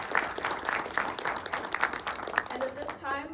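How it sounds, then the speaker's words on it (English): An audience at a church college awards dinner applauds previous award recipients: moderate, steady clapping for about two and a half seconds, after which a voice begins speaking. "I invite you to join me in giving a round of applause to all the previous recipients"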